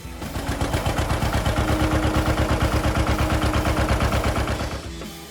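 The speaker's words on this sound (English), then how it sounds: "The John Deere 520 is powered by a 180 cubic inch, two-cylinder, gasoline engine." A John Deere 520 tractor's 180 cubic inch two-cylinder gasoline engine runs with a loud, steady, evenly spaced popping chug, close by and alone.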